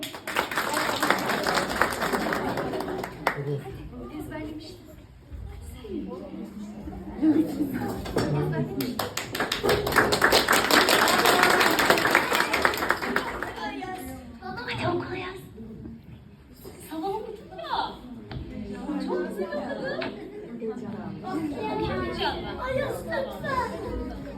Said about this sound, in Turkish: Alkışlayın burada bizi eğlendirelim sizi